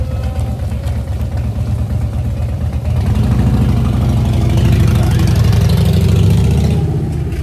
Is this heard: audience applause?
no